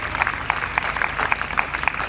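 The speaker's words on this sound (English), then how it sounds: "A round of applause for Art of Living." An outdoor crowd at an International Day of Yoga event in Bernie Spain Gardens claps in a loose, fairly rhythmic pattern, moderately loud and somewhat distant with open-air ambience underneath.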